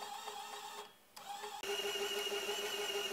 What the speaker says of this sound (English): the machine moves to one point from two different directions